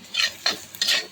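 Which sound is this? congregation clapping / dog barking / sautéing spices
sautéing spices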